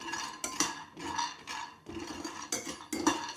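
Sesame seeds and peanuts dry-roasting in a pan for til laddoos, with a utensil scraping and clattering against the metal in repeated bursts, fairly close and steady, with no talking.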